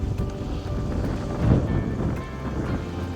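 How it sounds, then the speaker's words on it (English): Blustery wind buffets the microphone at a lake shore, a steady rumbling roar with a stronger gust in the middle, no voices. "that wind's not helping either"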